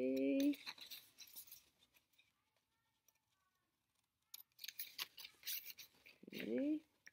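Paper figure snipped out with scissors, giving quiet close snips and rustles between stretches of talk, with a pause of near silence in the middle.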